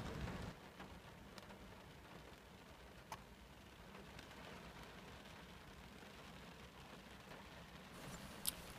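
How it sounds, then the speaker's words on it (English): Steady rain falling during a passing shower outdoors, a faint, even hiss of drops with a few louder ticks, no voices. "And the rain's come on."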